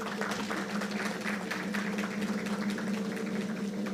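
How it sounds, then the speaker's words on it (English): Applause from an audience at a corporate plan launch event, a continuous dense patter of many hands clapping at steady volume throughout, with a low hum underneath. "some round of applause."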